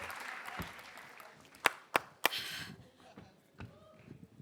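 Three quick, sharp hand claps in a steady rhythm ring out on a comedy talk-show stage, close and distinct above a low background murmur.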